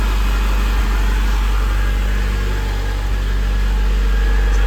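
A 38-year-old car's engine runs at a steady idle, a loud, continuous low rumble with no change in pace and no voices over it.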